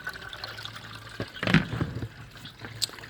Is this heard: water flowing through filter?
yes